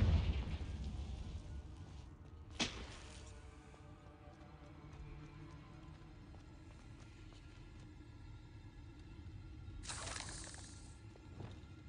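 A Confringo fire spell explosion in the Hogwarts Legacy video game: a sharp cracking blast followed by a low rumbling tail, then a second burst of noise later, over a quiet game ambience.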